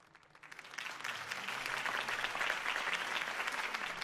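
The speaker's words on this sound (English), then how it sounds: "If only Mr. Wayne, my campaign's largest backer, could have heard that applause" A crowd in the video game Batman: The Telltale Series breaks into sustained applause for a campaign speech, many hands clapping in a dense, steady wash that swells after a quiet start and keeps going.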